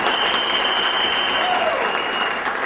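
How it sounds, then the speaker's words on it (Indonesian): Audience applause at a seminar in Surabaya, a dense, steady wash of clapping from a large crowd that holds at an even level throughout. "tepuk tangan dong"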